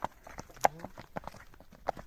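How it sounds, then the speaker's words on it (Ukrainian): Scattered hoof clops from young Belgian draft mares moving nearby, uneven and fairly faint, with outdoor background and a few sharper knocks. "Дві молодих кобили."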